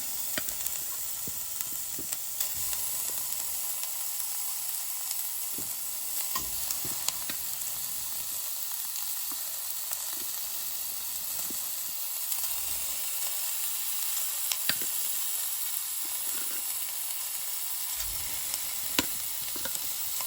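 Pork fries in its own rendered fat in a hot wok, a loud continuous sizzle with scraping stirs and small crackles pulsing across the stretch, no talking.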